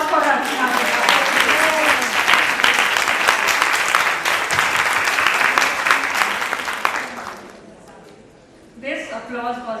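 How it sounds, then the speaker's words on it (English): Loud, sustained applause from an audience at a club installation ceremony fills most of the clip with dense clapping, fading toward the end before a brief resurgence and a voice. "Need a thunderous applause for Archana."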